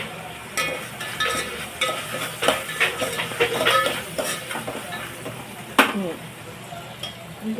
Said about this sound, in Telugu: దీన్ని ఇలా కలుపుకొని